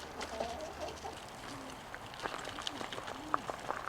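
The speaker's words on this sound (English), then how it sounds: "Chickens are adapting to their new home." Chickens in a chicken house at a primitive settlement in the Great Smoky Mountains make soft scattered clucks and short calls at close to middle distance, with faint background murmur.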